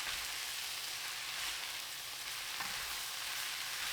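Cantonese soy sauce chow mein noodles stir-fry over high heat. The sizzle is a soft, even hiss that runs throughout without a break, and there is no talking.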